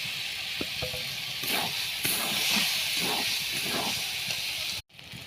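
Fried vegetables hit the pan for sago pulao and set off a loud, steady sizzle with a broad hiss and faint crackles throughout, cutting out sharply near the end and then resuming briefly.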